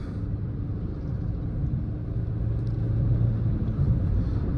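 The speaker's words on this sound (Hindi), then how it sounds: "अब 100 पे चल रही है गाड़ी" A 2024 Suzuki Grand Vitara base model cruises at 100 km/h around 3000 RPM, its cabin filled with a steady low engine drone and road rumble that swells slightly toward the end.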